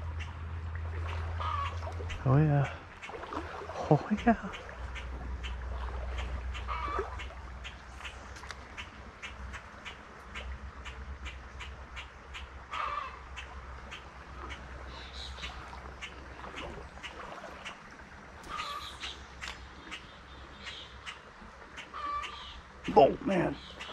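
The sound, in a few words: chicken clucking near a creek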